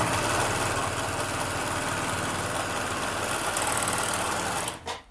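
A sewing machine stitching elastic onto shalwar trousers runs in a steady, fast mechanical whir close by, then slows and stops with a brief clatter near the end.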